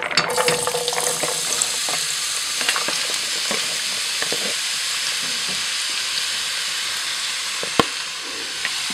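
Chopped beetroot sizzles and fries in sunflower oil in a hot pan, a loud continuous crackle with occasional stirring clicks and a brief sharp knock near the end, no talking.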